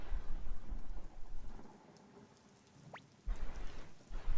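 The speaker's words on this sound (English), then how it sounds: "You can hear thunder and lightning in the background." Thunder rumbles alongside steady rain in a storm scene from the video game Suikoden, low broadband rolling in waves with a quieter lull in the middle before the storm noise swells again.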